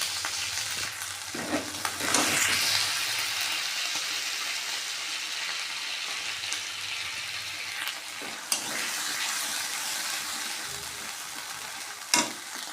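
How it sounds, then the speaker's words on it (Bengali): Ground spices sizzle and spatter in hot oil in a pan, a steady frying hiss throughout with sharp pops and crackles breaking out now and then, fairly close. "আরে মশলাটা তেল ছিটকাচ্ছে"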